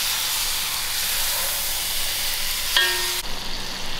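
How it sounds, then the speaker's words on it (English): Lamb meat frying out in a pot on low heat for Durban-style dhal gosht, a loud, dense, steady sizzle with a brief metallic clink and a scrape, then the sizzle continues a little quieter. "It's very important to fry out your meat."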